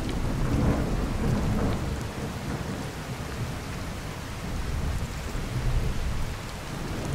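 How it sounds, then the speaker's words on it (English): Heavy rain pours steadily in the video game Skyrim while low thunder rumbles through it, forming a dense, loud and continuous storm roar with no voices. "I just realized this storm's still going."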